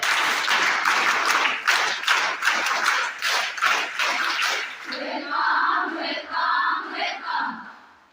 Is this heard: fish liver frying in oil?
no